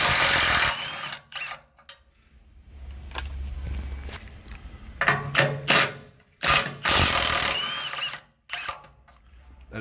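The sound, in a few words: removing 18mm transmission mount nuts on a Ford Econoline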